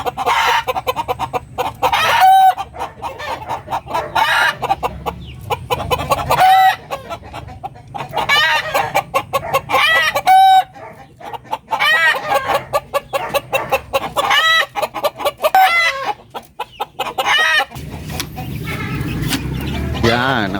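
Native chickens cluck steadily on a farm while a rooster crows several times at intervals, loud and close, with broad outdoor background noise throughout.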